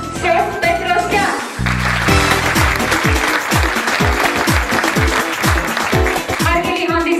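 Loud audience applause at a top model contest in Yerevan fills the hall with dense, continuous clapping, and a presenter's amplified voice carries over it.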